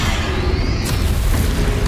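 A Bombarda spell explosion in Hogwarts Legacy, a loud, dense, continuous rumbling blast that fills the whole moment without a clear start or end.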